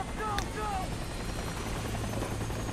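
Helicopter in the video game Far Cry 3, a steady loud rotor drone filling the scene with a brief whistling tone early on and people talking over it.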